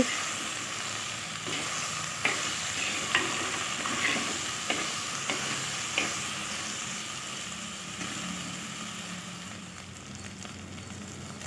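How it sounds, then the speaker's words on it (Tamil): Onion and okra sautéing together in a pan for a tamarind curry, a continuous bright sizzle with several soft scraping stirs at irregular intervals. "வெங்காயமும் வெண்டைக்காயும் நல்லா வதங்கி வரட்டும் சேர்ந்து"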